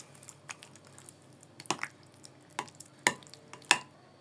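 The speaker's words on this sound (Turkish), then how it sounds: "Şöyle güzelce karıştıralım" Homemade yogurt with three garlic cloves is stirred in a bowl for a cacık-style meze, giving quiet wet spoon scrapes and a few sharper clicks of the spoon against the bowl rim, with no talk.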